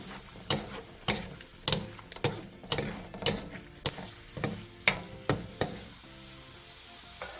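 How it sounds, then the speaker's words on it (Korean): Tofu and shishito peppers braise-frying in simmering sauce over medium-low heat, a low bubbling sizzle punctuated by a dozen sharp, evenly spaced spatula knocks against the pan, close and clear, with no voices. "양념이 끓으면 두부와 꽈리고추를 넣고 중약불에서 양념이 자작해질 때까지 조리듯이 볶아주세요"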